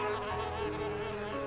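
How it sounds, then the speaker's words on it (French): A mosquito whines with a continuous, close buzzing drone that holds steady throughout, alone without any voices. "Un putain de moustique."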